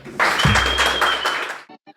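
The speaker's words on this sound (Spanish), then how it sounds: "Un aplauso para el doctor Pepe Bandera" Short burst of audience applause in a television studio for Dr. Pepe Bandera, loud and close with a low musical tone underneath, cutting off into a few brief trailing sounds.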